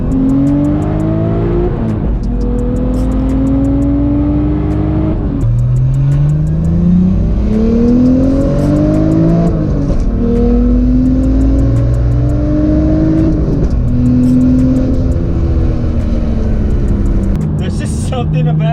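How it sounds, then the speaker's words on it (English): A BMW 335i with a single-turbo N54 straight-six engine, tuned and running 20 psi on 91 octane, revs up repeatedly through the gears in loud, rising surges, with someone talking over it. "there's just something about the freaking screaming straight six that's just freaking fun"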